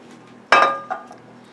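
A glass baking pan clinks sharply against a hard surface, one loud ringing knock followed by a softer second tap, close and alone with no talk.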